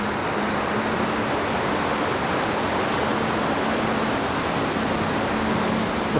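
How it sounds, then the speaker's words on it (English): Clearwater Falls on the Clearwater River, a mossy high-elevation forest waterfall in the Oregon Cascades, roaring as a dense, unbroken rush of falling water that stays steady and loud throughout. "Clearwater Falls, this beautiful run of the Clearwater River"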